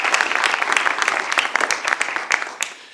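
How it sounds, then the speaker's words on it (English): A civic event audience at a State of the Cities gathering applauds, a close, crisp patter of many hands that thins and fades toward the end. "let's give them a big round of applause"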